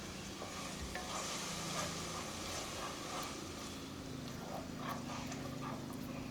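Masala mixture stirred together with yogurt in a pan for mushroom biryani, a continuous close sizzling and scraping of a spoon through the thick mix, steady and without talk.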